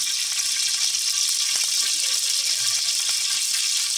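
Onion, garlic and ginger frying in hot oil in a home kitchen for a wild goat meat korma, giving a steady, even sizzle that stays at one level throughout with no talking.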